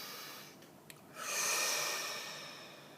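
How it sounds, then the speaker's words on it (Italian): A single long, deep breath drawn in and slowly let out, close to the microphone, breathy and steady, with no talking. "facciamo un respirone"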